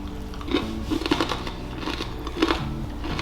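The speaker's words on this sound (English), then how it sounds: "Yeah, crunch. Crunchy." Crunchy bites into green bean casserole with fried onion topping, several crisp crackling crunches spaced across a few seconds, close to the mic with no talking.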